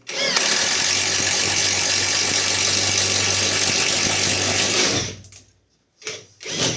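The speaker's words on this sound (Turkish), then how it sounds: "Tekrar deliyorum." Catpower 4226 cordless impact driver drilling, with a loud, steady whirring run of about five seconds that stops abruptly, followed by a quieter brief burst.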